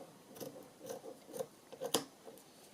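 Scissors cutting across a piece of lace: a quiet, close series of about five rhythmic snipping crunches, the last one sharpest, with no talking.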